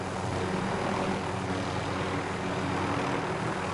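Steady, droning roar of an aircraft engine in a video game, loud and unbroken, with no voices over it.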